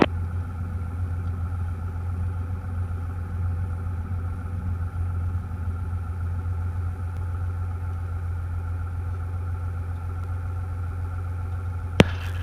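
A Cessna 172 engine runs during takeoff as a steady, droning low hum heard from inside the cabin, continuous and even, with a sharp click near the end.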